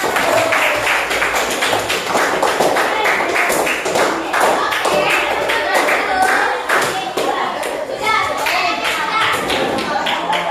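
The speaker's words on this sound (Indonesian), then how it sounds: "tepuk tangan" A classroom of children claps their hands together in a dense, loud burst of applause that keeps going, with young voices chattering underneath.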